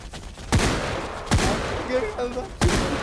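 Gunfire in the video game Hound Automaton: three loud, sharp shots ring out about a second apart, close and punchy, over a busy game background.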